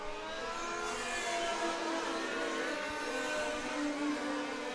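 A large scale model Formula 1 race car in Red Bull livery runs through a sweeping bend onto the main straight at the 2017 European Championships, its high-pitched engine whine holding steady and fairly distant, with no talk.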